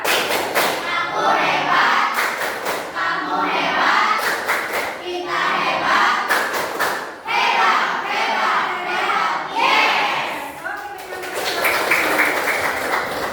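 A standing class performs a rhythmic clapping chant, repeated sharp bursts of group claps alternating with children chanting together, loud and energetic throughout.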